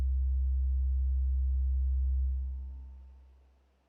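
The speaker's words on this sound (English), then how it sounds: "while this sample instrument is going" A sample instrument in Logic Pro sounds a steady, pure low sine-like tone that holds evenly for about two seconds, then fades smoothly away to silence, with no voices present.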